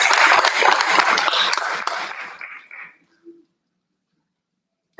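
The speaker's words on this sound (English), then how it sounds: "Another round of applause for Mr." Audience applause at a board meeting: a dense crowd of clapping hands, loud and steady for about two and a half seconds, then thinning to a few scattered claps and silence.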